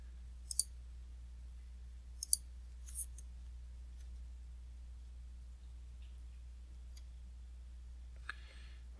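A computer mouse clicks a few times in a quiet room during spreadsheet work: sharp, faint, isolated clicks, with a pair early on, another pair a little later and one near the end, over a low steady hum.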